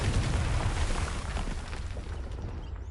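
A Confringo spell explodes in the video game Hogwarts Legacy: a loud, deep blast with a heavy rumble that slowly fades over a few seconds.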